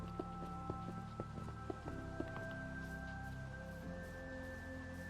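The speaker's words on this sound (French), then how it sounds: "Il pleut." Rain falls in a building video game, a soft steady patter behind game music, with faint scattered clicks and thuds.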